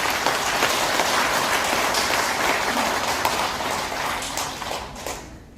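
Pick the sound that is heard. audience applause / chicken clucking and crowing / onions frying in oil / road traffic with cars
audience applause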